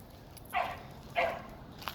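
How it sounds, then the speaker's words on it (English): Dogs barking across the way outside a house, two sharp barks roughly half a second apart, distant and faint over a low background hum. "there's those crazy dogs across the way"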